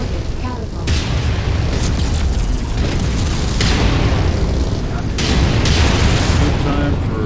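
Missiles blow up in a mech combat video game, a loud, continuous deep rumble of overlapping booms with heavy low-end surges and no clear gaps.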